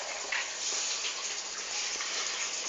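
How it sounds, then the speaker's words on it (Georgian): Warm water, cold and hot mixed together, pours steadily into dough being made, a continuous close gushing splash with no pauses and no talk. "წყალი და ცივი და ცხელი, ოდნავ ცხელი ერთმანეთში შევურიოთ და ჩავასხათ ჩვენს გასაკეთებელ ცომში"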